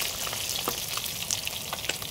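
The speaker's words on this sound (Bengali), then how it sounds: "আমাদের মাছ ভাজা হয়ে গেছে।" Fish caught from a pond sizzle as they fry in oil in a pan, a close, continuous crackle with scattered sharp pops and no voices.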